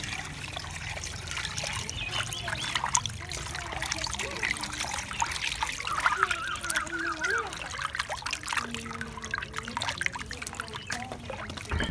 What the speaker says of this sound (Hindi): अब इसको पानी के साथ धोकर अच्छी तरह साफ़ कर लेंगे।